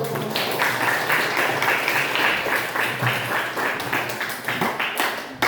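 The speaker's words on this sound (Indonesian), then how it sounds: "Tolong kasih tepuk tangan, kasih applause." A classroom of students applauds a group's presentation, a steady patter of clapping heard fairly close with a few louder claps near the end.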